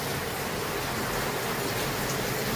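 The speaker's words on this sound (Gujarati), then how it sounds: "ઘરમાં વરસાદ તો ભૂકા કાઢી જાય" Heavy rain falling around a house, a steady loud wash of hissing water without pauses or voices.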